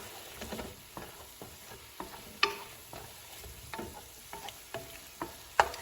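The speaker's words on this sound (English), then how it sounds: "And then we'll give it a stir." A one-pot dish seasoned with Italian herbs sizzles softly as a spoon stirs it, giving light, irregular taps and scrapes against the pot.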